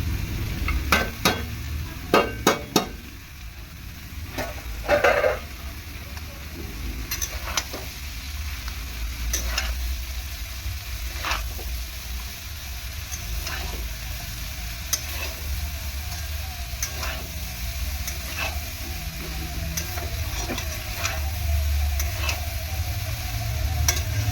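Chopped banana stem frying in a pan, a low steady sizzle running throughout with scattered clicks and scrapes of stirring, loudest briefly near the start, no voices.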